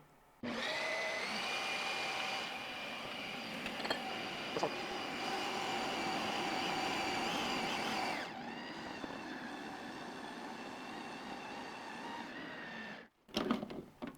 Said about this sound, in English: lock in our Creami container, and then we're going to mix it on regular ice cream